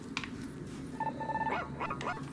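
The robot dog companion in the video game ReCore gives short whining yips that rise and fall over a steady game background hum, moderately close.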